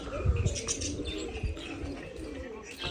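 A female pigeon coos softly in low, rolling murmurs out in hot sunshine, nearby, with faint chirps and a light background hiss.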